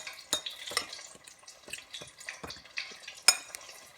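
Seasoned flour for crispy fried chicken being mixed by hand, heard as a series of soft, irregular scraping and rustling strokes at close range, with no talking.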